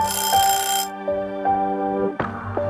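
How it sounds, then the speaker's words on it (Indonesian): A ringing alarm clock in the video game A Space For The Unbound sounds in repeated bright, tonal bursts, fairly close and alone. "Apa nih, kok ada suara alarm dah? Oh ini alarm nih, matiin dulu nggak sih alarm?"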